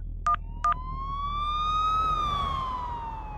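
Siren sound effect standing in for an ambulance: two short tone beeps, then a steady rising and falling wail over a low rumble, loud and close.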